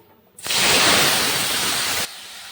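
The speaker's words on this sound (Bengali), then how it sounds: "কড়াইতে তেল দিয়ে দিলাম শাকটা ভেজে নেব তেলটা গরম হয়ে গেছে" Leafy greens dropped into hot oil in a wok, bursting into a loud, sustained sizzling hiss that starts abruptly, holds strong for about a second and a half, then cuts off sharply.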